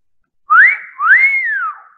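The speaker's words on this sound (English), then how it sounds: "Whistling" A person whistles two rising-and-falling melodic phrases, clear and close, alone in silence, as a hobby shown on a talk show.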